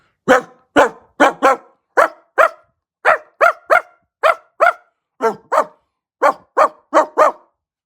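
A dog barks loudly and close, in quick pairs repeated steadily for several seconds, with no growl evident and no talking.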